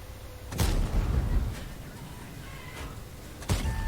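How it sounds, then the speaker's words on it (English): Artillery shells landing in a World of Tanks battle, two loud booming impacts a few seconds apart over low background rumble. "And artillery. Artillery again."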